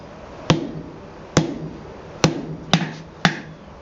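Five sharp metallic hammer blows from a rounding hammer on steel ring out at an uneven pace while forging blacksmith tongs, each with a short bright ring, close and alone.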